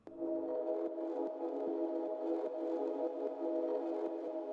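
A sustained synth pad, the VR pad, with a crystallizer effect, played for a hardwave track, holds steady layered tones throughout at even loudness after a brief low onset, with faint rhythmic dips. No voices.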